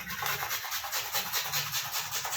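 An onion is crushed together with ground spice paste, giving a close, rhythmic rubbing and grinding scrape that repeats in quick, even strokes without speech.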